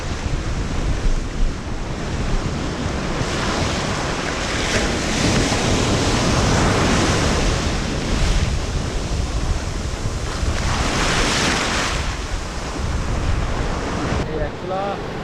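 Surf rolls in steadily at Kozhikode beach, a continuous broad wash of breaking waves with gusts of wind buffeting the microphone throughout, no voices.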